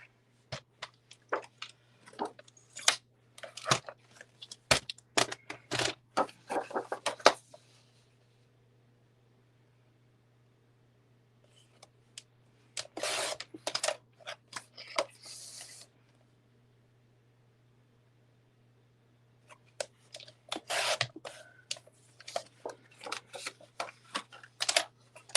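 Scissors snip paper to cut out a piece for a themed binder: quick, close crisp snipping bursts in three separate runs, divided by long silent pauses.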